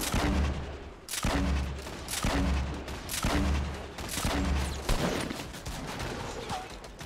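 Rapid bursts of gunfire from the video game Fortnite, loud and close, repeating in about five regular volleys with heavy low booms, followed by scattered shots and game noise.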